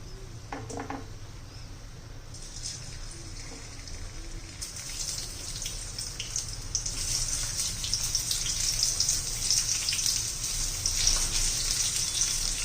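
Stuffed bitter gourds frying in hot oil in a kadhai, a steady hissing sizzle that grows louder and denser after the vegetables go in, continuous and close with no talking.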